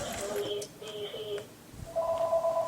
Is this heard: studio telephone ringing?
yes